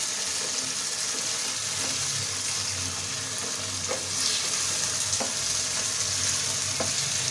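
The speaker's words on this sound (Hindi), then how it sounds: "अच्छी तरह से चलाएं ताकि इसमें मिक्स हो जाए" Chicken curry fries with a paste of blended green chillies being stirred in, producing a continuous loud sizzle with occasional scraping taps of the spoon against the pan.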